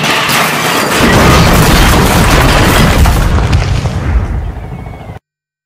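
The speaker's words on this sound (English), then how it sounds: "As Thomas could see, the two vans was derailed" Toy train vans carrying fruit derail and crash, giving one loud, close, rumbling burst of clatter and impact noise that lasts a few seconds and then fades out abruptly, with no speech.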